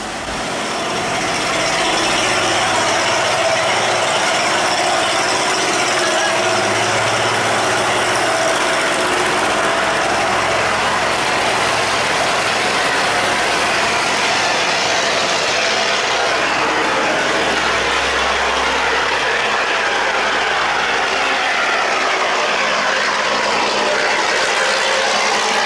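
Engine of a wooden boat loaded with coconut material moving through a sluice gate, a loud, continuous droning motor with broad rushing noise and no speech.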